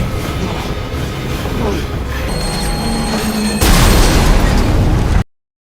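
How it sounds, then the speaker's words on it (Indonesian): In a film scene, a C4 charge blows apart a bridge as a train plunges into a ravine: a dense rumbling roar with rail clatter, rising into a sudden loud blast that cuts off abruptly. "C4 yang dipasang meledak dan menghancurkan jembatan tepat sebelum kereta sempat melintas"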